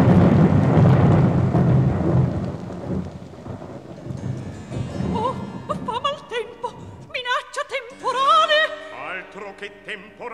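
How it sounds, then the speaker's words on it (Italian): A thunderstorm effect from a 1953 recording of Rossini's opera La Cenerentola: loud rolling thunder and rain rumble for several seconds, then fade as singing voices take over. "Che temporale"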